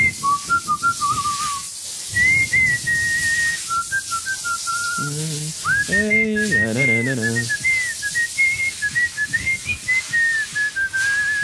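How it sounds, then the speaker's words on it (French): A person whistles a wandering melody, clear and close, with a short hummed or sung passage in the middle. "Qu'est-ce que tu siffles d'habitude?"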